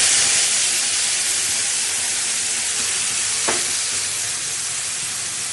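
Spice paste of tomato, green chilli and ginger hits hot oil with whole cinnamon, clove and cumin, giving a steady, close, loud sizzle and hiss that barely changes throughout, with one brief stirring clack midway.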